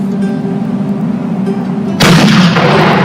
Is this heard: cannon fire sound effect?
yes